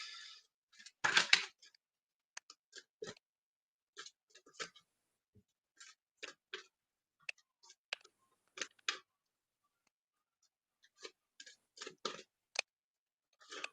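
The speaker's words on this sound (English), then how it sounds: "Let me shuffle the cards." A deck of reading cards being shuffled, giving quiet, close, irregular bursts of papery riffles and flicks separated by silent gaps.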